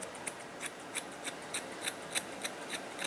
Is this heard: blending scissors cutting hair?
yes